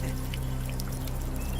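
Water pours steadily in a continuous, close wash of splashing, with a low hum underneath, during a tense scene in a Hindi action film.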